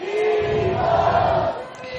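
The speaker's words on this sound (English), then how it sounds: "You can hear the crowd starting a Cleveland Eagles chant" A crowd of spectators at a boys' youth ultimate frisbee league championship final chanting for Cleveland Eagles, a sustained blended roar of many voices, steady and moderately loud from a distance.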